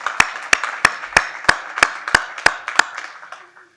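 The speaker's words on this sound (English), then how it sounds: "So join me in a round of applause for the Planning Committee." An audience at a pediatric orthopedic symposium claps in a steady, evenly spaced rhythm, about ten sharp claps close by that fade out at the end.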